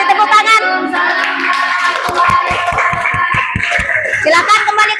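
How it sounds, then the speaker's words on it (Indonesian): A group claps hands together in a classroom-style gathering, first in scattered clapping, then in a burst of sharp, evenly spaced claps in unison, all heard beneath children's voices and talk. "Kasih tepuk tangan."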